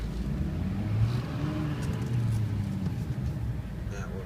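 Steady low rumble of a 2004 GMC Sierra diesel 4x4 crew cab pickup idling and driving in four low, a continuous close drivetrain drone with slight swells in level throughout.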